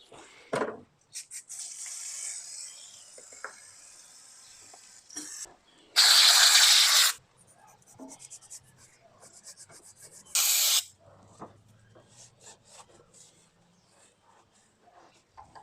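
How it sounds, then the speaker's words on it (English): Scraping and rubbing at an old gasket on the valve cover and engine surface of a 1971 Toyota Celica TA22 barn find: intermittent close rasping strokes, with two louder harsh bursts partway through. "Now I've got the tedious part of trying to get the rest of this gasket off and get the surface all"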